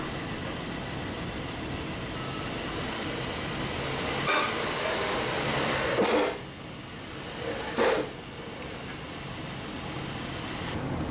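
A 2016 Honda Pilot rolls slowly up onto drive-on ramps in a garage, its engine running steadily at low revs with a couple of short louder bumps and thuds as the tires climb.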